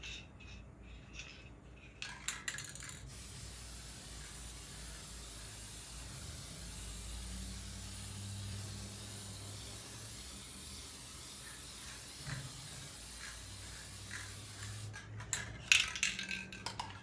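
Grumbacher clear gesso sprayed from an aerosol can indoors beside an open door, a steady hiss held from about two to fifteen seconds, moderately close, with a few clicks and rattles at the start and end.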